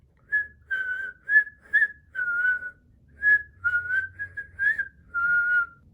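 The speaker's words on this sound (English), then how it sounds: "even the whistle at the beginning" A bright, tuneful whistled melody opens a country song, clear phrases in a lilting rhythm with short pauses between, close and alone without other voices.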